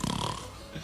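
A voice imitates a loud, rasping snore, a single guttural rattling breath close to the microphone.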